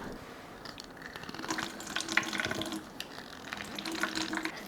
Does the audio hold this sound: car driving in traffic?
no